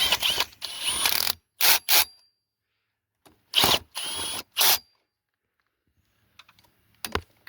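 Ratchet wrench cranking on stator cover nuts of a Polaris quad, heard as several short bursts of rapid clicking separated by quiet gaps, close and fairly loud, with a couple of faint ticks near the end.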